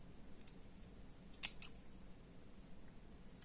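A single crisp snip of scissors cutting fabric for a flower embellishment, followed by a fainter second cut, close by in an otherwise quiet room with no talking.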